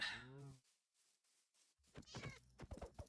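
Minecraft cat giving one clear meow at the start, followed by a pause and then brief speech.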